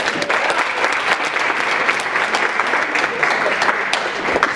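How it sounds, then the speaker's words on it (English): A crowd applauds throughout, a dense, even wash of many hands clapping together at close range, with no pause or talk over it. "give yourselves a round of applause for that"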